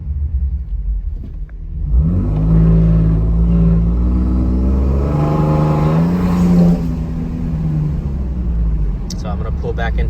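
A 2022–2026 Toyota Tundra fitted with a K&N air intake kit revs up, its engine note climbing and holding loud, then falling away, with a brief voice at the end.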